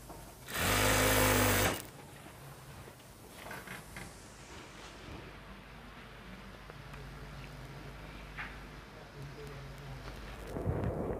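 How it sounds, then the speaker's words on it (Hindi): A sewing machine stitches the front flap of a ladies' jacket in a short, loud whirring burst of about a second, then falls to faint clicks and handling sounds in a quiet room. "तो इस तरह इसको रख के यहाँ पे हम सिलाई लगा लेते हैं।"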